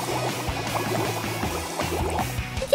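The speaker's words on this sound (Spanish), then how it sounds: "Tienes que sumergirlo en el agua." A toy dinosaur is plunged into water, making continuous close sloshing, gurgling and bubbling sounds for a few seconds, with no talking.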